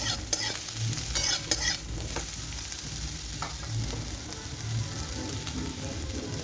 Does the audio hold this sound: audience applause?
no